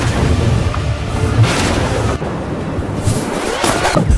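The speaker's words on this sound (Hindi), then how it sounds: "महादेव का वो बाण एक महाविस्फोट की तरह उन तीनों नगरों से टकराया" A huge explosion from Shiva's arrow destroying three cities: a dense, continuous rumbling roar with deep booming bursts, loud and close throughout, with no talk.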